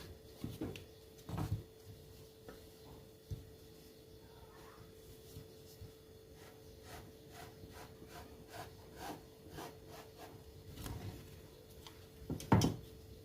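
Scissors cutting through blouse fabric for a four-tuck blouse, a quiet, soft scraping with a few sharper snips near the start and a louder cut toward the end.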